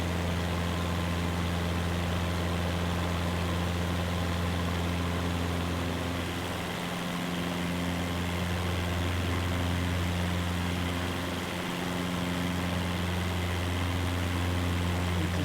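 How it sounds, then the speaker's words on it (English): A steady, droning aircraft engine hum fills the cabin during a flight over Nagasaki, with strong low tonal bands and broadband noise holding constant throughout, with no talk. "we're going to fly over some of the surrounding area, and then we're going to end up landing at that airport."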